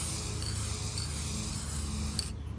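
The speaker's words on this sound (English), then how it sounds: "So let's paint them." Spray paint hissing steadily onto Honda seat extensions, a close, even aerosol rush held for a couple of seconds before cutting off abruptly, with no talking.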